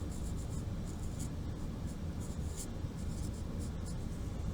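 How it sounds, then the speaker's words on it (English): A Sharpie marker squeaks and scratches across a sheet of paper as a name is written at the top, giving faint, irregular short strokes over a soft steady background. "First thing we need to do is write our name up at the top."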